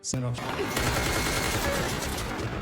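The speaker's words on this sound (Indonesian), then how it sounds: "Dengan sisa tenaga terakhirnya, Noel meraih senjata tersebut dan melepaskan beberapa tembakan." A rapid burst of gunfire, several sharp shots running together into a dense, loud crackle lasting a couple of seconds.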